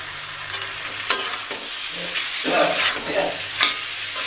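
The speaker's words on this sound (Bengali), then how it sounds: "পেঁয়াজ রসুন সবগুলো ভাজি হয়ে গেছে" Onion, garlic, panch phoron, ginger and dry red chilli frying in hot oil, a steady close sizzle with stirring scrapes and small crackling pops throughout.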